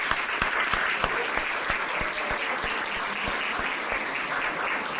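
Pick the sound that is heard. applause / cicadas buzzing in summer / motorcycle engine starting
applause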